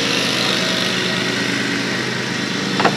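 A lawn mower drones steadily nearby for the whole stretch, a constant, fairly loud engine hum with no pauses.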